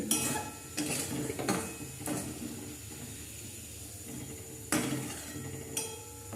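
Pieces of fried potato are scooped from a pan into a bowl, with repeated scraping and clinking of a metal utensil against cookware in uneven bursts, close and fairly loud.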